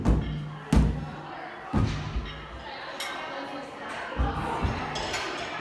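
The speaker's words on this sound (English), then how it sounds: "Turn your hips on those sledgehammer slams." Sledgehammer slams land in a workout setting, several heavy thuds spaced about a second apart, with faint voices and gym noise in the background.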